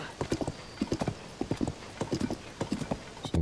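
Horse hooves clip-clop in a steady, brisk rhythm of repeated hoofbeats in Zelda: Tears of the Kingdom, fairly close and clear with no talking over them.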